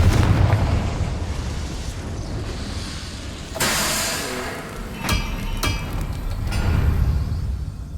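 A Confringo blasting spell detonates in the Hogwarts Legacy video game, with several loud, sharp explosive bursts near 3.6, 5.1 and 5.7 seconds over a steady rumbling game soundscape. No one speaks.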